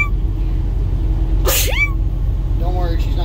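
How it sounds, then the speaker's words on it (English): A single sharp sneeze bursts out midway, heard inside a car at roadside, over steady engine and road rumble, with faint chirping sounds after. "I've been sneezing my head off"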